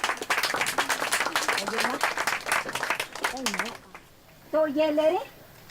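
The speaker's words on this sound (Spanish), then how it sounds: "vamos a darle también un fuerte y caluroso aplauso" An audience at a language documentation event in Honduras gives warm, steady applause that fills the first few seconds. A voice speaks over it, and the clapping then fades into talk.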